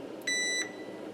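A single steady electronic multimeter continuity beep lasting about a third of a second, clear and close over a quiet background hum.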